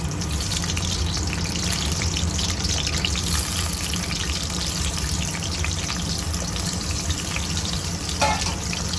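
Raw banana slices coated in salt and turmeric fry in oil in a wok, giving a loud, steady, close sizzle that runs unbroken throughout.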